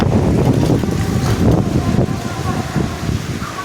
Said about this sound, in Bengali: কারণ দেখো কত ঝড় হচ্ছে